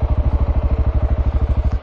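A KTM 690 Enduro single-cylinder motorcycle on a dirt trail, its engine throbbing in fast, even, loud pulses up close, as if ridden at steady throttle.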